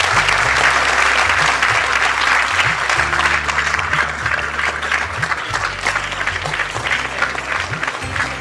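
Sustained, dense audience applause fills a theatre award ceremony honouring a veteran comic actor, steady and loud from start to finish, with low music notes underneath.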